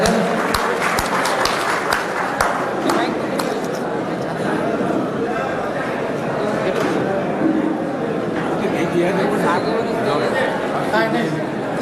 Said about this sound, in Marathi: सर्वांनी जोरदार टाळ्या वाजवून स्वागत करायचं आहे साहेबांचं.